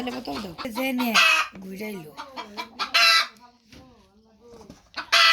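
Village chickens cluck repeatedly while a rooster crows loudly nearby, the calls rising and falling in bursts with a person talking among them.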